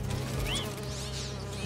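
Bees buzzing in Marvel's Spider-Man 2, a continuous insect drone with wavering whining tones sweeping up and down over a low hum, steady and fairly close.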